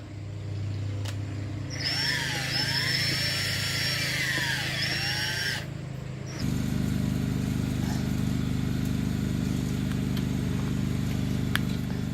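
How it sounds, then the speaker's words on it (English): A high-pitched power tool whining like a dentist drill runs for a few seconds during RV water damage repair, cuts out, then a lower steady motor hum continues beneath background noise. "Sounds like a dentist drill."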